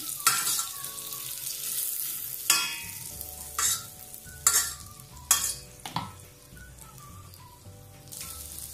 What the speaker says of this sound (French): j'ai mis une échalote plus le beurre dans ma casserole